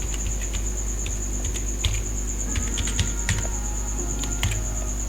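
Username and password are entered on a computer keyboard for an online share-trading login, a close, steady run of quick key clicks and taps over a faint constant hum.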